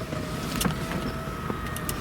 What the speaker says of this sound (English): here's the convertible top button, and we want to put it down